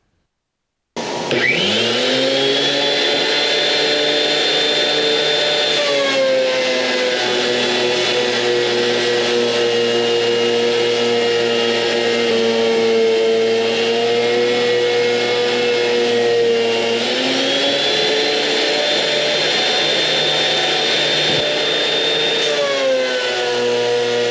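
An electric wood planer trimming 2x3 boards, starting abruptly and running as a loud, steady high-pitched whine for over twenty seconds, with two shifts in pitch as the cutter bites into the wood and then eases off.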